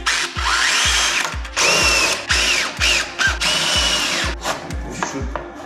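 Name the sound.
power drill driving a screw into a bar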